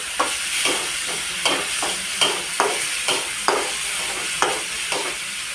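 Tomatoes and chillies fry in hot oil for a Maggi noodle dish, a constant sizzle broken by regular scraping strokes of a spoon stirring the pan about twice a second.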